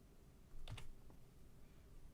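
A few quick keystrokes tap on a computer keyboard while a game is being set up, a brief close cluster of clicks followed by quiet room tone.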